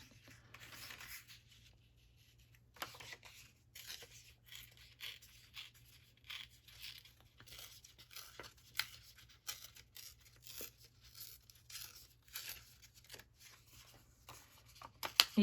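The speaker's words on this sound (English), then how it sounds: "You gotta love watching me tear paper." Paper torn by hand while making a collaged envelope, a series of close, dry ripping bursts in irregular rhythm with short pauses between, over a faint steady low hum and no talking.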